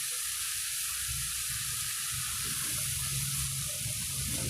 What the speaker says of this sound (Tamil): அவரைக்காவை நல்லா வதக்கிக்கோங்க.